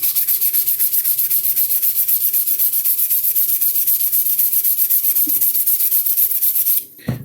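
Hand sanding of a workpiece, a close, loud rhythmic scrubbing in quick even back-and-forth strokes that continues steadily for nearly seven seconds before stopping abruptly.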